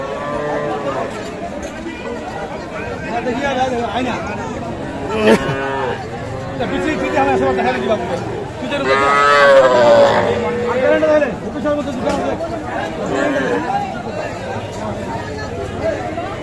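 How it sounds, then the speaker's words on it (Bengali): Young bull calves mooing at a busy border cattle market, several loud close moos rising over steady crowd chatter and bargaining voices throughout. "ষাঁড় বাছুরগুলো কেনাবেচা চলছে।"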